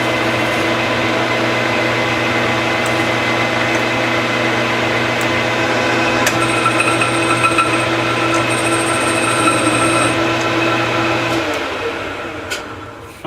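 A metal lathe runs steadily with a constant mechanical hum and whine, close and loud, with brief high tones partway through, then winding down near the end.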